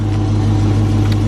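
Dodge Charger R/T engine idling through a Corsa Xtreme exhaust, a steady, loud low rumble with no talk over it.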